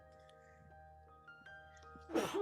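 After a quiet stretch with a soft steady tone, a single sharp sneeze bursts out close by near the end.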